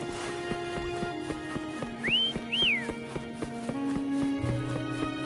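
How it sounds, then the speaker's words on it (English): Two short rising, swooping whistles call a horse in a video game, followed by steady clip-clop hoofbeats over a layered game soundtrack with tonal music beneath; moderately loud and close. "Why don't you call Foam over? Try whistling."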